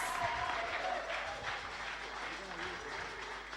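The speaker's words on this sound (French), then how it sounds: "Under your applause." A church congregation applauds at a worship service, a dense, steady wash of clapping throughout with voices mixed into the crowd noise.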